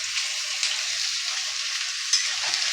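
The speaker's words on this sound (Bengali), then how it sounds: "এবার আমি পেঁয়াজ, গ্রেট করা পেঁয়াজটা দিয়ে দিচ্ছি।" Grated onion sizzles steadily in hot oil in a pan for a Bengali chicken curry, a continuous close frying hiss with no talk over it.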